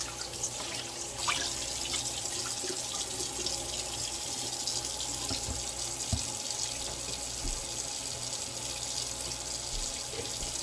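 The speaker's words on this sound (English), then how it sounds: "I'm going to rinse this bowl out really good." Steady tap water runs into a bowl being rinsed out in a kitchen sink, a continuous close splashing rush with faint clinks, no talking.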